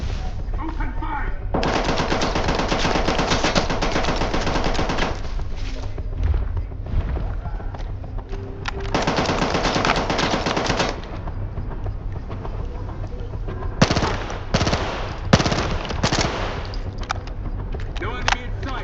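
Machine gun fire in the video game S.T.A.L.K.E.R. 2: loud, sustained automatic bursts lasting several seconds each, separated by short pauses, then shorter sharp volleys near the end, with faint voices under the shooting.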